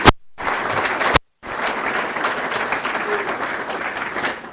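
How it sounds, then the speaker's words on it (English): Audience applause at a scholar-athlete recognition awards ceremony, starting after two brief cut-off bursts and then rolling on as a steady, moderately loud wash of clapping. "So give yourself a round of applause."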